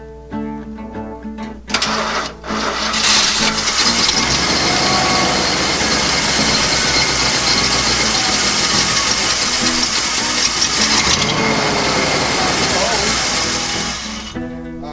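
A carburetor car engine fed by a cheap aftermarket fuel pump fires up after a couple of sharp bursts and settles into a loud, steady, rumbling run close by for most of the stretch, with no talk.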